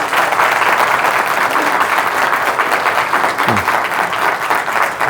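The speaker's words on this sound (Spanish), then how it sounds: "Voy a despedirlos con un fuerte aplauso." Steady, loud applause from a seminar audience at an event in San Borja, sustained dense clapping throughout with no talk over it.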